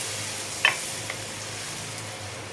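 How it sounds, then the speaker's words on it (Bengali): Semolina cooks in a pan after water is added, giving a soft, even sizzle close by with one brief clink near the start. "পরে আমি জল অ্যাড করছি সুজিটা একটু সেদ্ধ হতে লাগবে"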